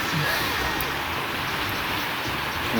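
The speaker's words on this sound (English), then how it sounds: "it's raining, like, pretty hard." Heavy rain falling hard in Super Mario Galaxy, a dense, steady wash of noise that stays loud and even throughout with no breaks or talk.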